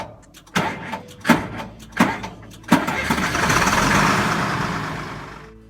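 A truck engine with starting trouble cranks in four separate strained bursts, then briefly catches into a rough, rising run before fading, close and fairly loud.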